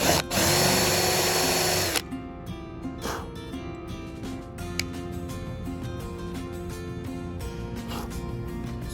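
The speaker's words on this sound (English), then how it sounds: "So the stepper bit will enlarge the hole a little bit." A power drill with a stepper bit enlarges a hole, opening with a loud high whine for two seconds before settling into a lower, steady motor hum under the bit.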